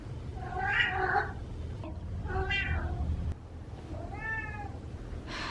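A domestic male cat meows three times in a row, each call drawn out and clearly pitched, close by against a steady low background hum.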